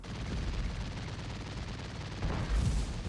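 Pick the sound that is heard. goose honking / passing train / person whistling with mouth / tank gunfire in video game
tank gunfire in video game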